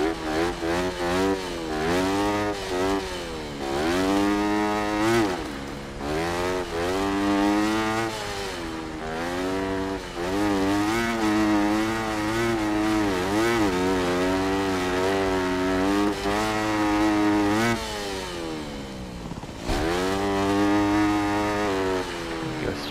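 A dirt bike engine in Monster Energy Supercross 6, held loud and close at high revs in fifth gear, its whine rising and falling with throttle changes and a few short dips, with no talk.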